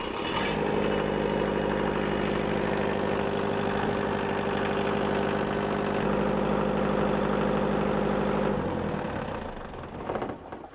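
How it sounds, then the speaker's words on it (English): Boat generator engine running after an impeller replacement, a steady droning idle with a strong low hum that holds evenly for about eight seconds, then cuts off, leaving a few faint clicks. "let's go run the engine up again now, see if it runs cool and properly."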